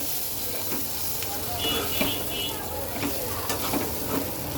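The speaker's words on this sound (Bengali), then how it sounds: "এখন সকল মশলাটাকে আমি সুন্দর করে কয়েক মিনিট কষাবো" Turmeric and coriander powder being sautéed in a pan for a fish curry with potato and eggplant, a close steady sizzle and hiss with soft stirring scrapes, heard alone.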